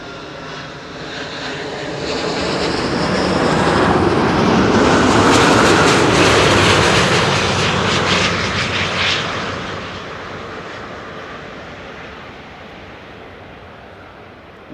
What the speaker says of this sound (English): Cathay Pacific flight 271, arriving from Hong Kong. 13 hours on the way. What a beautiful machine.